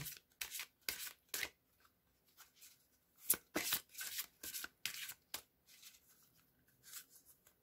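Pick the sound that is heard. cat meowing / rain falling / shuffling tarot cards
shuffling tarot cards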